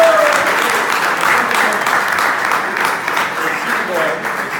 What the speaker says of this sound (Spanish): Un aplauso para el Cholo Converti